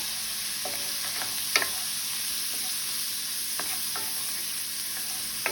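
Peppers and onions sauté in a hot pan as the base for southern fried cabbage. A steady sizzle runs throughout, broken by a few sharp utensil scrapes and taps as the vegetables are stirred.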